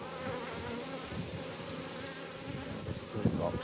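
Honey bees hum steadily around an open hive during an inspection, a dense continuous drone of many wings close by, with a brief louder swell near the end.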